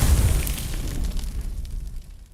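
A Confringo spell in Hogwarts Legacy detonates as a deep, rumbling explosion, loud and close, with a booming low-end blast that rolls out and slowly fades over a couple of seconds, no voices.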